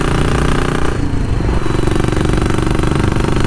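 A classic motorcycle engine drones loud and constant from on board while riding, with a brief dip in pitch before it steadies again.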